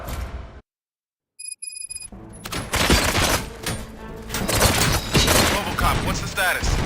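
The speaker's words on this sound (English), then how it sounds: "Gunshots? What's going on?" Dense bursts of video game gunfire erupt after a brief silence and continue loudly and steadily, with a voice talking over the shooting.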